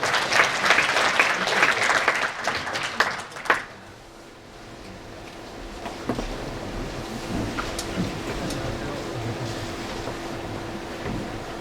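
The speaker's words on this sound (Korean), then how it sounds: "큰 박수로 환영 부탁드리겠습니다." An audience at a technical lecture on CAE engineering claps to welcome a speaker. Brisk applause lasts about three and a half seconds, then drops away into a quiet room with a low steady hum.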